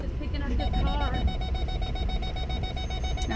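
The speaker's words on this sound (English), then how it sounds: "My backup sensor is beeping like there is." A rapid, steady series of electronic beeps repeats under people talking and road noise inside a car.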